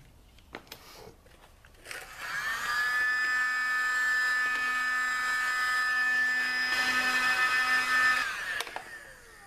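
After a few faint knocks, a heat gun switches on and blows with a steady, whining fan tone for about six seconds, warming a Kydex knife sheath, then cuts off, leaving quiet handling sounds.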